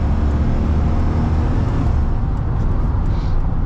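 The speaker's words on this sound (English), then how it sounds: "It just downshifts nice and quick. I love the throttle body sound of the V8 of the LS motors." A V8 LS-engine truck drives on an old highway onto a back road, its engine a loud, steady low rumble close by with broadband road and wind noise, no talking.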